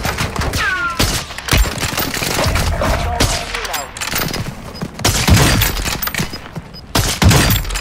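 Loud rolling airstrike blasts and rapid gunfire fill a chaotic battle in a squad-based shooter video game, with repeated heavy booms and bursts throughout and players talking over them.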